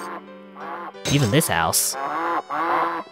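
Cartoonish duck quacks and honks from a flock gathered at a statue in the video game Dink Smallwood, several sharp squawks in a burst while someone talks over the game sounds.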